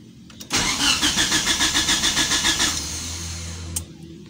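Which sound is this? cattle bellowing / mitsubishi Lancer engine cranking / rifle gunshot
mitsubishi Lancer engine cranking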